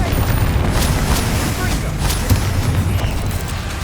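Spell explosions in the video game Hogwarts Legacy, heavy rumbling booms and blasts layered densely and continuously with battle noise, loud and close.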